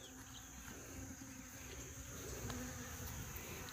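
Honey bees crawl and hum on a brood frame pulled from a weak colony, a soft, steady buzzing drone that stays close and continuous throughout.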